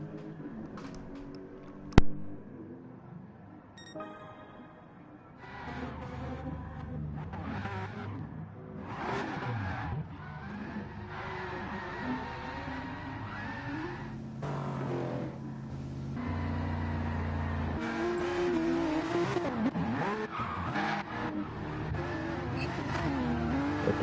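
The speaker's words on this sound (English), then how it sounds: "we got a lot of the guys drifting here currently for us on stream" Cars drifting in a racing video game during a race broadcast, with engines revving and rising and falling as tires squeal through long slides. One sharp click comes early and continues into a dense, building mix of engine roar and skidding.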